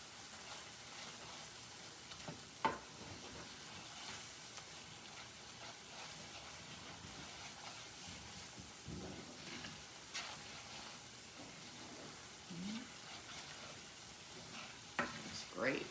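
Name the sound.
stirring thickening sauce cooking in a pan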